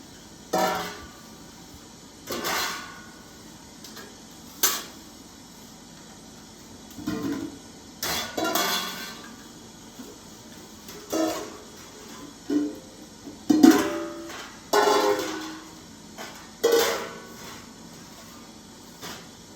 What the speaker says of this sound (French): Disposer les plats sur la surface de travail pour ensuite les servir de manière fluide